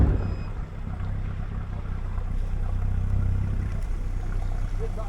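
A brand new Parsun 115 outboard engine runs on a fishing boat off Anglesey, a steady low rumble droning throughout at close range with no talking.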